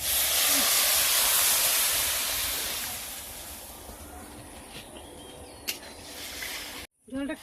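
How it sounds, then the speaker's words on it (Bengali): Water poured onto hot sautéed spices for a fish curry hisses loudly at first, then the sizzle fades to a quieter bubbling with a few clinks, ending in a brief break and some faint kitchen noise. "তো মশলা যখন কষানো হয়ে গেছে, এবার আমি জল দিয়ে দিচ্ছি।"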